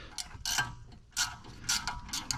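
A ratchet clicks in several short bursts as it loosens an Allen screw on a Mercedes E320 front wheel hub, with quick pawl ticks separated by brief pauses, close and fairly quiet.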